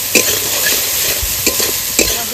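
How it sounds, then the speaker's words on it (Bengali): A spice paste of cumin, dried and green chilli, ginger, turmeric, salt and Kashmiri chilli is stir-fried in a pan for a rohu fish dish. It gives a loud close sizzle with a few quick scraping stirs. "মশলা কষানো হয়ে গেছে"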